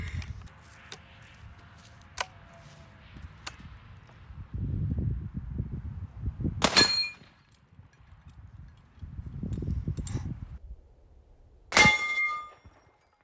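Hornady 250 grain FTX sabot slugs fired from a rifled 20 gauge shotgun strike a steel target, giving sharp metallic clangs spaced several seconds apart, with rustling noise in between.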